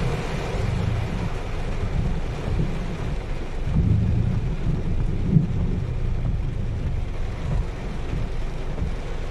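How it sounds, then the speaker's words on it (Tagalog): Steady, dense roar of heavy rain during a thunderstorm with lightning, with a low rumbling undertone, continuous throughout and fairly loud, with no voices. "Bigla na lang bumuhos yung malakas na ulan mga kalakbay."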